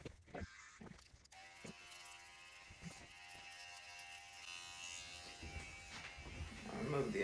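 Hair clippers with an adjustable blade buzz steadily while trimming hair during a hair system fitting, a faint, close electric hum that runs throughout and grows slightly louder toward the end.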